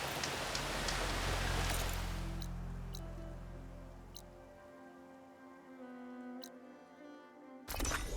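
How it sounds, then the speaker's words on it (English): Rain in Horizon Forbidden West easing into a light drizzle, a broad hiss that is loud at first and then fades away over several seconds, leaving low tonal game ambience and faint drips before a brief burst at the end. "Down to a drizzle. Almost over."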